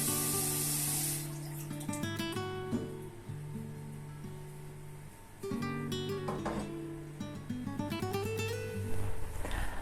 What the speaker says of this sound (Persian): خب بچه ها الان قابلمه‌مو تا نصف آب میکنم